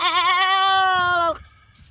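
A person imitates a goat's bleat with the voice, one loud, sustained, wavering cry lasting over a second before it breaks off, with faint background noise after.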